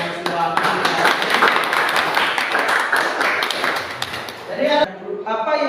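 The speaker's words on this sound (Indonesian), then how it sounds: "tepuk tangan dulu untuk kelompok yang sudah" A classroom claps for a student group, a busy burst of hands close by with chatter mixed in, fading near the end as a voice carries on alone.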